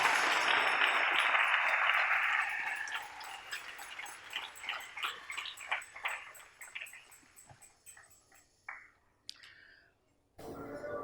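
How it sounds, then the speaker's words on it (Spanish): A church congregation applauds its King during a pastor's service, a burst of clapping that fades within a few seconds into sparse, scattered claps and quieter room sounds. "Dale ese aplauso al Rey con todo tu corazón"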